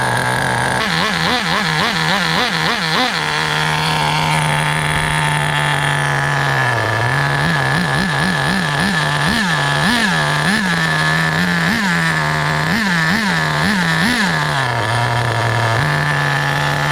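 A nitro engine in an HPI Nitro RS4 RC car buzzing loudly and high-pitched, continuously, repeatedly revving up and dropping back to a steady idle in quick wavering bursts.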